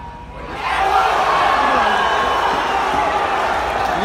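Golf gallery at the BMW Championship at Caves Valley reacting to play, a loud swell of crowd roar and cheering that rises after a quieter start and holds steady to the end.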